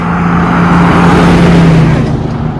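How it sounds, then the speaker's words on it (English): Loud road traffic with cars and buses rushing past nearby, a steady broadband roar with engine drone throughout. "there's so many cars and buses here"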